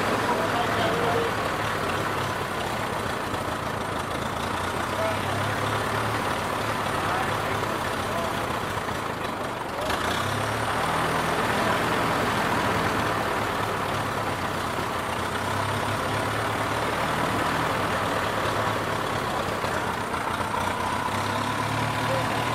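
A car engine idles roughly and loudly on its own in a continuous rumble, sagging briefly midway as if nearly stalling before catching again.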